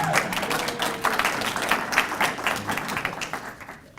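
Applause from an audience at a 2016 State of the City address greets a commissioner's arrival, a dense, steady clapping from a large room that slowly fades toward the end.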